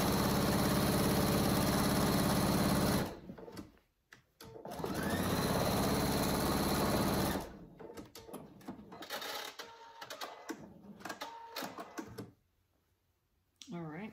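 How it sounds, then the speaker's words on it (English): A sewing machine runs in a long steady burst stitching a cat carrier cover, stops briefly, then resumes; after it halts, a voice talks over lighter handling noises and intermittent short machine runs. "I'm going to sew all the way down until I connect to where I sewed the first stitch"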